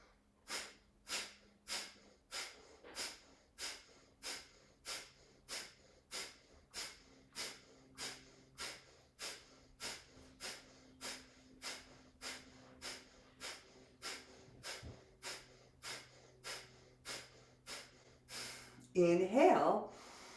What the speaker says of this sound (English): So we'll breathe together here.